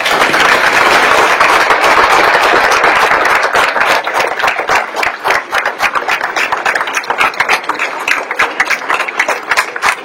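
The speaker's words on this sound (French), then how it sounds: "vous méritez collectivement nos félicitations et nos applaudissements" Applause at a school diploma ceremony in a collège, loud massed clapping that starts as a dense roar and thins into more distinct, rhythmic individual claps toward the end.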